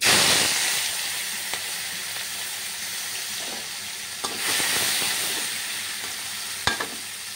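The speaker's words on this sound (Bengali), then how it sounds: "কড়াইতে আমি তেল দিয়ে দিয়েছি। এবার আমি চিংড়ি মাছগুলো দিয়ে দেব।" Shrimp frying in hot oil in a wok, a loud continuous sizzle up close with occasional sharp spatter pops and clinks, no talk over it.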